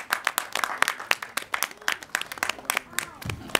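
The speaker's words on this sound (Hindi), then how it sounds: "सभी के लिए एक बार जोरदार तालियां हो जाए" An audience at the Dhoop Chhaon trailer and song launch claps, with sharp, distinct individual claps at an uneven, fairly quick rhythm, close and moderately loud rather than a dense roar.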